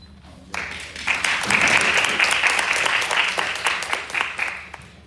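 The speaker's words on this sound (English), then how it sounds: "Let's give another round of applause to" A crowd breaks into steady applause after a quiet start, many hands clapping together before it tapers off near the end.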